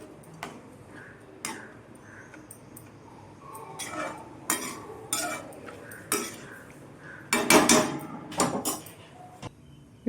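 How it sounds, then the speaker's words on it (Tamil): A spoon stirs a pot of turkey berry tamarind curry, giving scattered metallic clinks and scrapes against the vessel, irregular and close, growing busier and louder toward the end, with no talking. "இப்போது கிண்டி விட்டு ஒரு கொதி வரட்டும் நல்லா."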